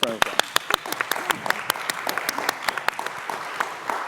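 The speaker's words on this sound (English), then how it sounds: "can we just round of applause for Eva?" A small audience claps for a guest named Eva, with distinct sharp individual claps in an irregular patter, close by, while a voice talks over it.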